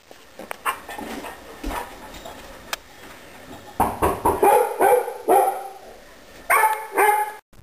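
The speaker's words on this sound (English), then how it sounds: "Power number 3, the super bark." A dog barks repeatedly and loudly close by, a run of sharp barks in quick clusters after a few scattered earlier yips and thumps.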